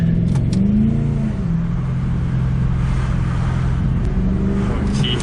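A 2006 Ford Mustang V8, a repaired salvage car, drones steadily from inside the cabin as it accelerates, its engine tone rising and falling in a continuous loud rumble.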